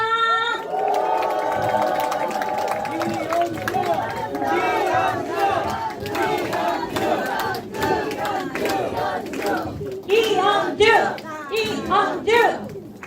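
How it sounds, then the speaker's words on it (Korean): Crowd at a Korean political party members' event cheers, shouts and claps loudly to welcome a speaker, with chanted voices rising and falling over the applause throughout. "큰 박수로 모시겠습니다"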